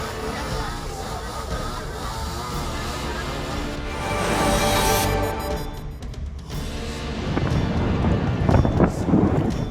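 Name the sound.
strong wind storm in Merauke, Papua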